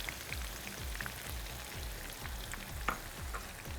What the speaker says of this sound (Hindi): ऑयल अच्छा गर्म हो चुका है तकरीबन, तो हम इसमें सबसे पहले अनियन जो है हम इसमें ऐड कर देते हैं